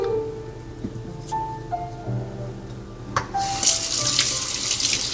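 Hot water running into a sink to rinse an espresso portafilter during a Flair 58 manual espresso session, starting after a few clinks and knocks and then gushing steadily and loudly, no voices.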